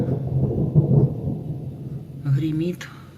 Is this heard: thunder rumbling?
yes